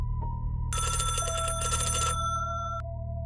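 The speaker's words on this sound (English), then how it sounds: "Then the house phone rang." An old ivory-colored rotary house phone with a coiled cord, set on a hallway table, gives one bright metallic bell ring lasting over a second, then falls quiet over a low steady hum.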